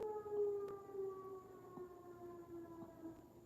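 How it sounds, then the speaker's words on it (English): A tornado warning siren wails in the distance, a long steady tone that slowly falls in pitch, faint and continuous with no voices over it. "That's a tornado siren."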